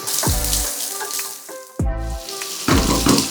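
Green chillies and curry leaves fry in hot coconut oil for a Kerala-style prawn dish, a close sizzle flaring in a few loud bursts as they hit the oil, then settling into a steady crackle.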